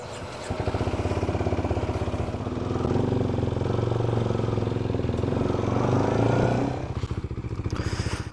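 A Kawasaki Ninja 125 motorcycle pulls away, its small engine giving a close, steady buzzing drone that rises through the revs, then drops off sharply before settling back to a rougher pulse, with no speech.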